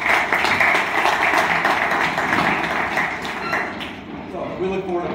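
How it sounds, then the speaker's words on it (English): A room of attendees at a Fashion District business improvement district annual meeting gives a steady round of applause, dense clapping holding level for several seconds before thinning slightly near the end. "We can give him a round of applause."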